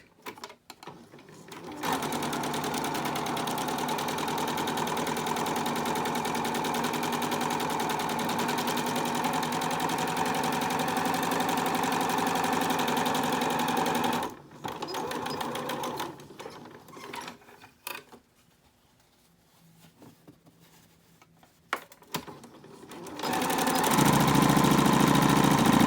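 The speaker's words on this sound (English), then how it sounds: "You're then going to stitch the top and the bottom of your mask." A sewing machine stitching the top and bottom seams of a fabric face mask, running in a long continuous whirring burst, then several shorter stop-start runs, and a final loud run at the end.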